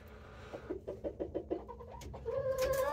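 Chickens cluck softly in a series of short, quick notes, close by, ending in a higher drawn-out call, sheltering from winter snow.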